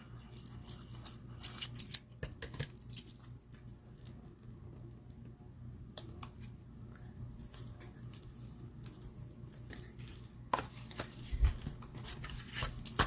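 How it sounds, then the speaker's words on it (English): Scissors snip out a paper circle for layered cardstock craft work, giving a run of soft, close crisp cuts and rustles over a low steady background hum. "I cut out the next size circle in the layering circles"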